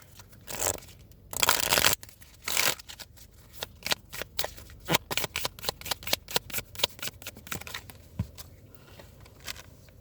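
Oracle cards being shuffled by hand, several loud riffling bursts at first, then a long run of quicker, softer card slaps and flicks, close and without talking.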